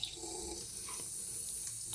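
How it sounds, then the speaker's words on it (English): Water from a bathroom tap runs into a sink, a faint, steady hiss and trickle that continues throughout without any voices. "I'm gonna turn the water on real quick in the slow"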